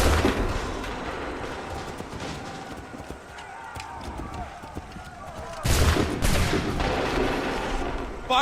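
Musket volley in Assassin's Creed 3: a dense crackle of gunfire with galloping hoof clatter and battle noise, the shots bursting louder near the end, while voices call out over the din.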